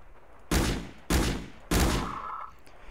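Gunfire in a video game while shooting zombies: three loud, close shots in a steady rhythm, each with a long decaying tail, alone and without voices.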